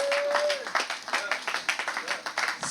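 Scattered hand claps break out from a crowd at a district annual report and New Year's party, brief and uneven, with a voice speaking over the start.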